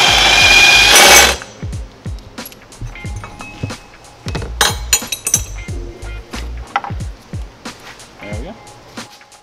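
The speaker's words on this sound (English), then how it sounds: "Since the mount didn't slide out on its own, I'm gonna need to loosen up this bracket. So I'm just gonna take the two bolts out." Tools removing two bolts from a mount bracket during a performance part install, a brief loud whir at the start followed by a close series of metallic clinks, ratchet ticks and small knocks.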